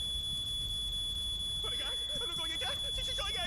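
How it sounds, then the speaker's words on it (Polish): A smoke alarm in The Sims 2 beeps steadily in short, evenly spaced high-pitched chirps throughout, with a voice talking over the second half. "Zapomniałam, że mamy alarm."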